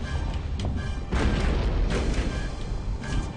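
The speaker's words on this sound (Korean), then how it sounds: "대포 때려, 대포 박살났다" Cannon being smashed in the video game Rock of Ages, a series of loud booming, crashing impacts over a dense, continuous game soundscape, with a heavy burst near the middle.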